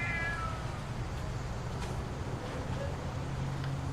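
A cat meows briefly in a spooky video game, a single short, fairly faint call at the start over a steady low ambient hum, followed by quiet background noise.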